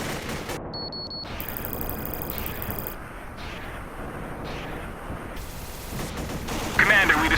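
Heavy mortar fire and gunfire in a military combat video game, a steady barrage of shots and distant blasts rumbling through the whole stretch, with high tonal game sounds and a voice-like swell near the end.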